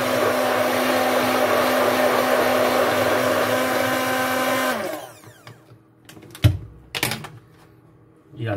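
A blender runs steadily, purées piquillo pepper and basil coulis with a loud, even whir for nearly five seconds, then cuts off, followed by a few brief knocks and clatters.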